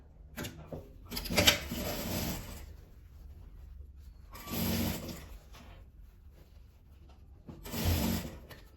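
Sewing machine stitching around the edge of a patchwork fabric-scrap phone holder, sewn from the inside. It runs in three distinct bursts with quieter pauses between them, heard up close and alone.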